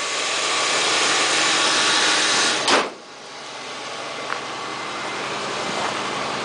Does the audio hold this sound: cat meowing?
no